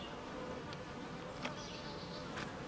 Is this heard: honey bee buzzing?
yes